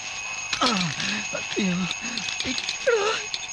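A steady, high-pitched alarm clock rings continuously while someone talks over it.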